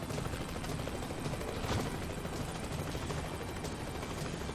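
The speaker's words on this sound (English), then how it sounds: "The ghost helicopter sped up and quickly flew above the other end." A helicopter flies overhead with a steady, dense whir of rotor and engine noise, fairly loud and unbroken throughout, no speech.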